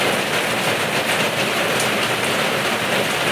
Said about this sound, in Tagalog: Malamig ngayon guys na ulan.